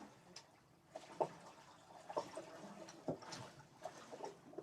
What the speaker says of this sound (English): we're literally only hearing the pitter-patter of the water against the dinghy being trailed